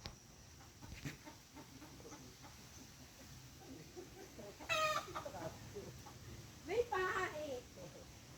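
A rooster with a parasitic twin clucks and makes short croaking calls in bursts, fairly close, with faint speech and farmyard background between the calls.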